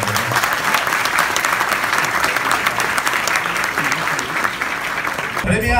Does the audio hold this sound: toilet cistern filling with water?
no